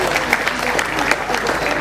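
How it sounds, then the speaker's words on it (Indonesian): Sustained audience applause at an NTT Expo tourism ambassador event, a dense steady patter of many hands clapping together at moderate loudness with a faint crowd murmur underneath, lasting without pause. "Kita kasih tepuk tangan dulu untuk semua."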